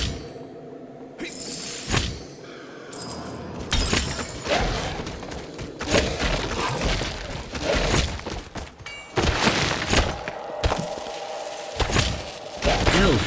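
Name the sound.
destroying a summoning object in the video game Gauntlet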